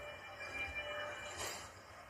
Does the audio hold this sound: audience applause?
no